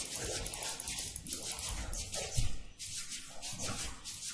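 Summoned dogs of a Witch Doctor in Diablo 3 gameplay: scuffling, growling and yipping dog effects mixed with dense game noise, steady and fairly loud with one sharper impact midway.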